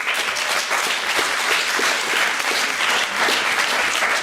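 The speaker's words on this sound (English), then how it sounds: "A big applause to everyone for being patient." Sustained, loud applause from a conference audience at a national assembly session, many hands clapping in a steady, even roar with no talk over it.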